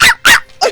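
A person imitates a chihuahua's barking with three short, sharp, high yaps in quick succession, loud and close.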